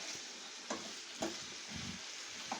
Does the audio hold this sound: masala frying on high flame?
yes